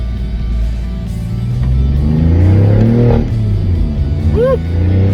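A BMW i8 engine fitted with a custom titanium Apexi intake revs up loudly and close, the rumble rising to a peak and settling back with a brief higher whine near the end.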